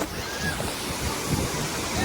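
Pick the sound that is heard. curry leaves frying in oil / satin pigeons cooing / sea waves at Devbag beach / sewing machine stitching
sea waves at Devbag beach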